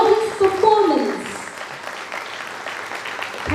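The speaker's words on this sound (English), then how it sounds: "Let's once again give them a big round of applause for this melodious performance." Applause from an audience at a school awards ceremony in Goa follows a student musical performance, a steady wash of clapping that starts strong with a voice over it and gradually thins out.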